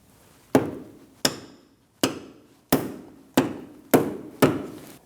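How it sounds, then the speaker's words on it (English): A hammer taps out a triple-square bolt from a front ball joint on a 2009-2017 Audi Q5, seven sharp metallic strikes spaced evenly about two-thirds of a second apart, each ringing briefly before fading. "Now when tapping out our triple square bolt, it will make contact with the boot."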